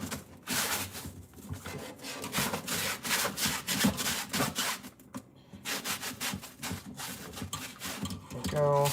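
Rhythmic, close scrubbing strokes on the bottom of an Instant Pot during soapy cleaning, rapid back-and-forth rubbing with brief pauses, and a voice speaks over it.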